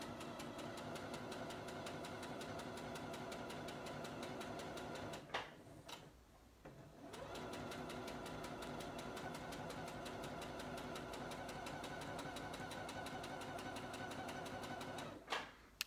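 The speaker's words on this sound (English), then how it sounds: "you'll just keep sewing until you get to the opposite end." Sewing machine stitching fabric for a scrunchie, running in a fast, steady rhythmic clatter close by, with a short pause midway before it resumes, and another brief stop near the end.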